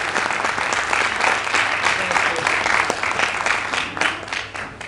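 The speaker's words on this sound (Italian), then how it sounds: "per la quale chiederei un applauso forte" A crowd gives loud, sustained applause for the Civil Protection volunteers of Pescina, group A, at an evening event, many hands clapping close and full with small swells before easing slightly at the end.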